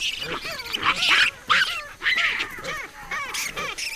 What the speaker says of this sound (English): Chakma baboons.